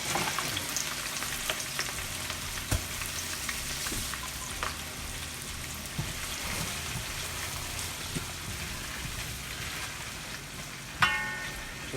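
Chicken wings and seasoning sauté in a hot pan, a steady, even sizzle running throughout with a few faint clicks and one brief sharper clatter near the end, no voices.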